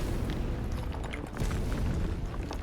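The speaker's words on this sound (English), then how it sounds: "Explosions everywhere." Explosions rumble in the fantasy strategy game Age of Wonders 4 during a battle, a continuous low booming roar with scattered crackling bursts throughout.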